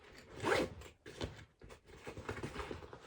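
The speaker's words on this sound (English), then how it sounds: "So once again, it has two zippers." A backpack zipper being pulled open in several quick rasping strokes, close up, with short pauses between pulls.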